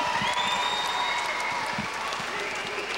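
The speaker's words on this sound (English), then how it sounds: "how about another round of applause for Sheldon Hinton?" Crowd at a boxing match claps and cheers in a big arena, a fairly faint, continuous wash of applause that carries on steadily with a little background crowd noise.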